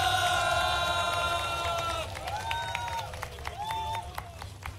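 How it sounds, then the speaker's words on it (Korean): At a press event where a candidate announces a run for Seoul mayor, voices call out over a crowd, then scattered applause and cheering rise and continue as the voices fade. "여러분 다시 한번 안철수 전 대표의 출마 기자회견을 큰 함성과 함께 격려해 주시기 바랍니다."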